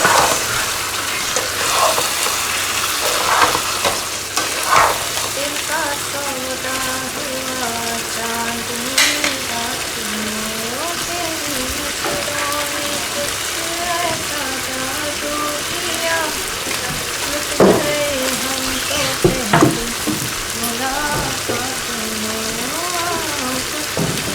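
Ginger and garlic frying in hot oil in a karahi pan for chicken karahi, a steady loud sizzle with stirring scrapes throughout and a voice talking over it at times.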